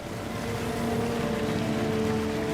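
Motor launches of a WWII flotilla travel up a quiet river, their engines a steady, droning hum that holds evenly throughout, with no voices.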